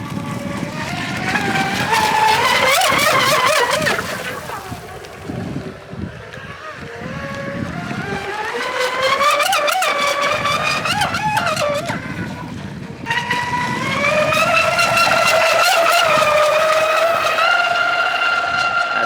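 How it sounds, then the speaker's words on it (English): A 3D printed model catamaran runs its motor across the water, a steady loud buzzing whine that rises and falls in pitch with throttle changes, mixed with wind noise and hull splashing. "we're back out here again with the catamaran"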